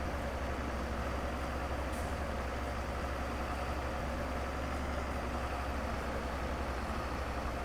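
Steady, continuous hum of a tractor engine idling in the Farming Simulator 22 game on the Edgewater map, with a low, even drone that holds without a break and has no talk over it.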